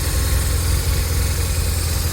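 A BMW R1200 RT twin cam motorcycle engine idles close by, a steady low rumble with an even pulse and no voices over it.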